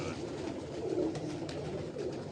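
Pigeons on a rooftop loft coo in low, soft rolling calls that continue steadily across the moment, close by, with a faint general background hum and no speech.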